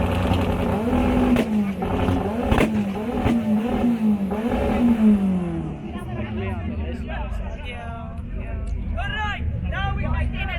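A Nissan 1400 with a 4AGE 20V engine swap revs hard, with rising and falling engine pitch swells, close and loud, while a crowd murmurs and people talk around it.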